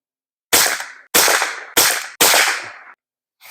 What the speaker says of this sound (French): Le bruit des explosions des balles, il est plus fort.